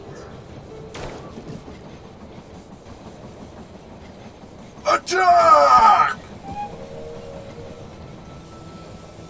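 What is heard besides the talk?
train arriving in the video game They Are Billions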